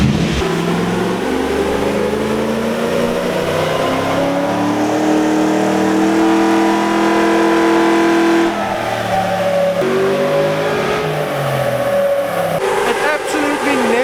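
A Toyota 1UZ-FE V8 engine in a Hilux pickup roars and revs up and down continuously at close range on a dyno under load, its pitch climbing and falling in sustained pulls.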